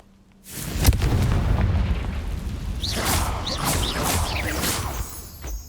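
A Confringo blasting spell goes off in Hogwarts Legacy with a sudden loud boom, followed by a sustained rumbling crackle of debris and fiery bursts that fades gradually, close and with no voices.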